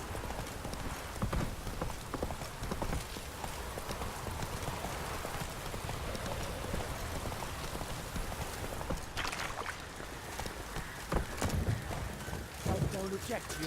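Horse hooves clip-clop in The Witcher 3, a steady rhythmic patter of footfalls running under a dense layer of game ambience, with a few sharper knocks near the end.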